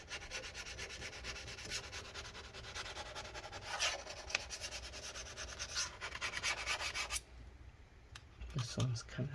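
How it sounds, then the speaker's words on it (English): Adhesive residue being scraped off the case of a 2012 15-inch Retina MacBook Pro A1398, a close, continuous gritty scratching with irregular strokes that eases near the end. "Scrape that stuff up some more."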